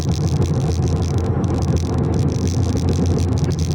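A small Honda DX car drives close by on the road, with a steady engine drone and road rumble running through the whole stretch and no talking.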